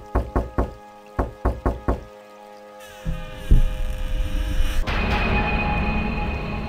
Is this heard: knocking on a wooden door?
yes